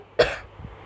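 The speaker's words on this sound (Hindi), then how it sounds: "गाइस बहुत खांसी है यार मेरा" A single sharp cough, close and fairly loud, followed by a faint second throat noise, with quiet background otherwise.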